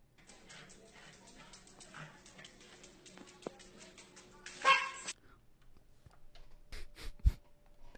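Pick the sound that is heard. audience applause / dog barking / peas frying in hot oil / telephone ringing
dog barking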